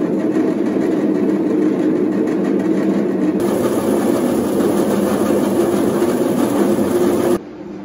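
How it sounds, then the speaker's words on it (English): A farm mill grinding wheat runs as a loud, steady mechanical roar with constant rumble and clatter, holding level throughout before dropping sharply near the end. "So whilst that mill's running, you can hear it in the background"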